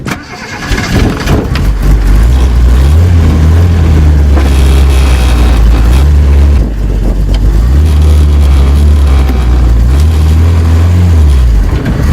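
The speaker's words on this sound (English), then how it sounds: "Driving this car is a bit of an experience in itself." A classic Honda car engine turns over and runs loud and close, revving up and settling in repeated surges with no one speaking.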